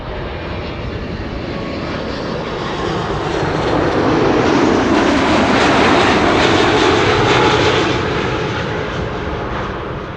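A United airliner arriving at Amsterdam Schiphol Airport produces a loud, steady engine roar that swells toward the middle and then fades slightly, with no voices over it.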